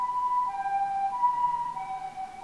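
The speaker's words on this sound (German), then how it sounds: "So hören sich japanische Krankenwagen an." Japanese ambulance siren wailing steadily, its two alternating tones sliding between pitches at moderate loudness, with no one speaking over it.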